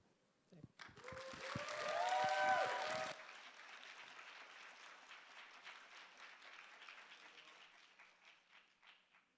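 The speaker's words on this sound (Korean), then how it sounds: "올라오실 때 저희 큰 박수 부탁드리면 좋겠습니다." A church youth-service congregation applauds as the pastor comes up: a brief loud burst of clapping that swells then drops to a lighter, steady patter with a tonal hum, under faint voices.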